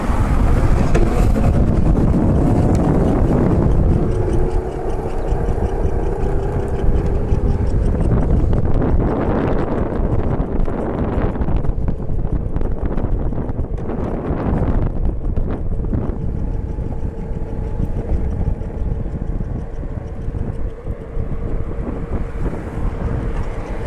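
A 12 volt electric scooter running on a homemade 12V lithium-ion battery rolls along steadily with heavy wind buffeting the microphone, a loud continuous rush with a faint motor whine underneath.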